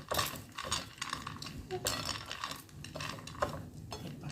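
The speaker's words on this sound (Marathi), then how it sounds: "टोमॅटो कोथिंबीर कांदा आणि शेंगदाणे मिक्स करून घ्यायचं" Tomato, coriander, onion and peanuts are stirred together in a bowl with a spoon, producing irregular scraping and clinking close by, with occasional brief talking mixed in.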